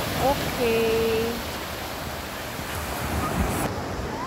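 Ocean waves wash onto a white-sand beach at a hotel resort, a steady broadband surf rush with wind buffeting the microphone, while a person speaks briefly early on.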